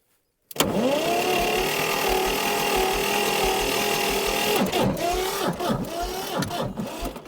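Homemade tractor engine cranking in -9 degree frost: after silence, a starter grinds steadily for several seconds, then winds down into uneven falling bursts without the engine catching.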